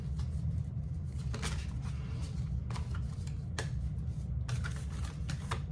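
Oracle cards being shuffled by hand in repeated riffling bursts, close and fairly soft, over a steady low hum with no talking.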